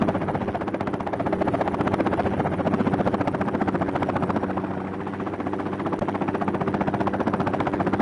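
A Hind attack helicopter flying in the video game Air Missions: Hind, giving a steady, loud rotor thump with rhythmic blade chop over a low engine drone that continues without a break.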